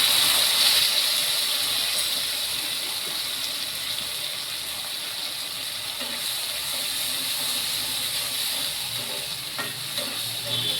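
Tomato paste hitting a hot pan over ginger-cumin paste, giving a steady, close sizzle and hiss that runs throughout, with faint stirring scrapes and no voices.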